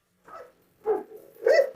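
Doberman puppies at play give three short, soft yips or barks spaced about half a second apart, the last one the strongest, with no voices.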